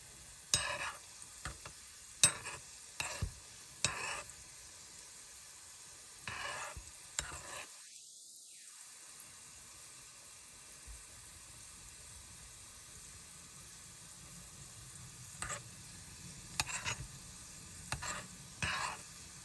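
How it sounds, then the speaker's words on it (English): Miniature flaming hot Cheetos fry in small amounts of warm oil, a faint, steady sizzle and bubbling hiss broken by brief soft clicks and stirring taps, with a short gap of near silence midway. "You have to make sure the oil is nice and warm so that they really bubble away"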